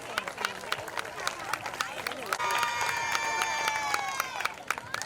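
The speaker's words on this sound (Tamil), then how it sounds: "கைத்தட்டுங்க." Audience applause at a school annual day, many hands clapping in a steady dense patter with a burst of cheering and whistling in the middle, fairly close and lively, with crowd chatter underneath.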